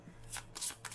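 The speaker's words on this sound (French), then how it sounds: "Voilà, donc je les mélange" Tarot cards being shuffled by hand, with several quick riffling bursts of papery flutter close to the microphone and short pauses between them.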